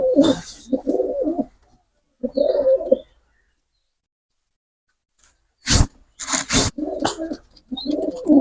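Pigeons in a loft that also keeps native chickens give several close bursts of soft, throaty cooing, separated by pauses of silence and with a couple of sharper flutters near the end.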